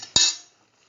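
A single sharp clink of a spoon against a pan while green chili is mixed into a coconut and scrambled egg stew, followed by a short fading ring and then quiet.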